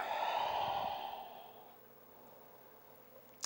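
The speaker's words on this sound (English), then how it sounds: "Last one, exhale, round." A long, breathy exhale during a slow rounding yoga stretch, loud and close at first, then fading over about two seconds into quiet room tone, with a tiny click at the end.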